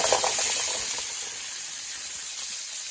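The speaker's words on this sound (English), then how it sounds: "I'm going to fry them up just a little bit" Meatballs frying in oil in a pan, a steady close hiss and sizzle that is loudest at the start and eases slightly but keeps going throughout, with no talking.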